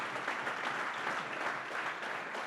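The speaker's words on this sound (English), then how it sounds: "give him another round of applause for that" Applause fills a dining hall at a political party's annual spring dinner, steady sustained clapping from many hands at moderate distance, with no voices over it.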